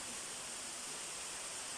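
Steady broadband rush of Wigmore Falls, a waterfall in a forested setting in the Cook Islands, heard as a continuous, even roar with no talk.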